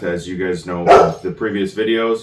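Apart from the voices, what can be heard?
dogs barking in the background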